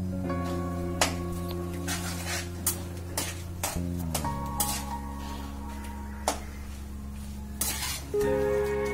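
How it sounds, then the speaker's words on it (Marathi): Split chickpeas (dale) roast in a pan until golden, for a Maharashtrian chivda, with steady sizzling and repeated scraping and stirring clinks of a spoon against the metal pan over music. "डाळे पण जरा सोनेरी कलर येईपर्यंत परतून घ्यायचे"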